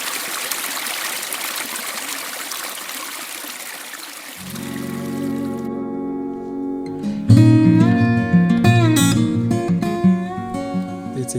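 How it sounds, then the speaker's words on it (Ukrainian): Spring water trickles and burbles close by at the source of the Rosokhan River in the Gorgany mountains of Ukraine, a steady bright splash for the first few seconds before music takes over and buries it. "Це є витік річки Росохан. Джерельна вода."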